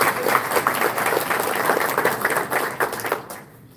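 Audience at a golf press conference breaking into steady applause, many hands clapping together close by, fading out toward the end.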